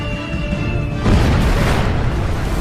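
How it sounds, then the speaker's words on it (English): Bombs blow up fuel and ammunition dumps on Betio island at Tarawa, a loud, sustained rumbling explosion swelling after a second and rolling on without a pause. "Explosions shake the island as fuel and ammo dumps are blown to pieces."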